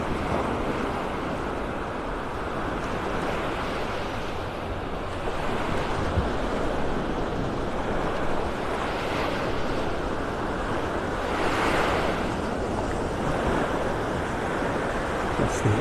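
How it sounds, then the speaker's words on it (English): Ocean waves breaking on a shallow sandbar off a North Naples, Florida beach, a steady broadband surf wash with gentle swells, mixed with some wind noise on the microphone. "The water is not very deep out there where you see those waves breaking."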